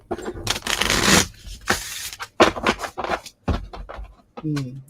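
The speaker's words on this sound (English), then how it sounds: "One more shuffle." Oracle cards shuffled by hand in bursts of dry riffling and scraping, close and fairly loud, with short pauses between passes and a voice speaking briefly near the end.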